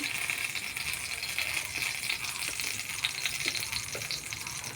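Potatoes and eggplant fry together with whole chillies in hot oil, giving a steady, loud sizzling hiss throughout, broken by a few faint clinks and stirring taps.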